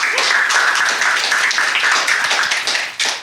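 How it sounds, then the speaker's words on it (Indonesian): Audience applause for Cokro TV at an Indonesian stand-up comedy open mic: dense, steady clapping from a crowd that holds loud for about three seconds and then starts to thin out. "boleh tepuk tangan dulu buat Cokro TV"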